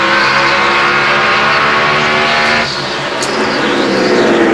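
NASCAR Chevrolet Monte Carlo race cars roaring around Richmond International Raceway, a loud continuous engine drone with layered pitches, dipping briefly as cars pass and then swelling again, no voices heard.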